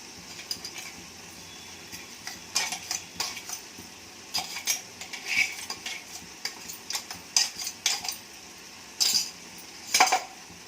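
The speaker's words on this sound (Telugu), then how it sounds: "పౌడర్ వేసి అంతా ఒకసారి తిప్పి" A spoon stirs ground coconut and garlic powder into tomato curry in a metal pan, giving irregular scraping clinks and taps at close range over faint background hiss, with no talking.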